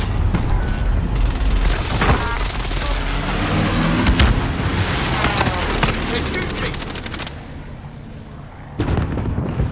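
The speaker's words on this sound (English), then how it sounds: "Grenades flying." Grenade explosions and gunfire in the Call of Duty Modern Warfare video game: loud, dense battle noise with repeated booms and bursts of shots, a brief lull near the end before another blast.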